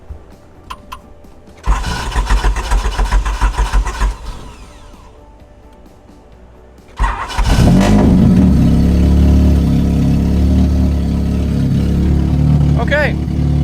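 A Suzuki Sol car's engine, freshly refuelled with 93-octane gas, cranks and catches, then revs loudly, drops back, and after a pause roars into a sustained, rough, harsh idle and rev up close; a voice is briefly heard.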